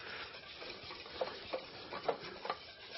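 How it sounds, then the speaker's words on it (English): Whisking in a bowl in a catering kitchen: a continuous close swishing with a series of rhythmic taps of the whisk against the bowl, fairly faint, no talk. "Let me go ahead and whisk that just a little bit more."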